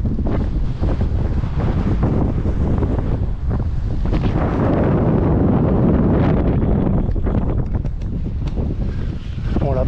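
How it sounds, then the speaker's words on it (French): Strong wind roaring and buffeting the microphone nonstop while mountain biking in the hills near Roses, Spain, a loud, gusty rush throughout with no talking. "Fait un vent de maboule"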